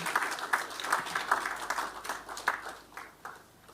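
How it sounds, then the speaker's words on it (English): A conference audience claps at a business expo, a scattered round of applause with sharp individual claps, moderately loud and tapering off toward the end. "just give yourself a round of applause"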